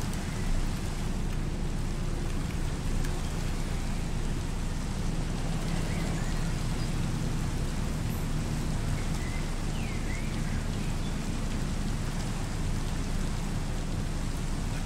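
Steady, soft hiss of rain falling in the modded Minecraft survival game, an even wash of drops that holds constant throughout with no other sounds.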